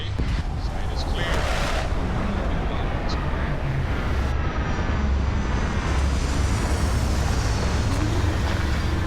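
A spaceship in Starfield lands with a loud, continuous engine roar and rumbling thrust, steady throughout with faint higher whine on top, while a voice speaks briefly over it.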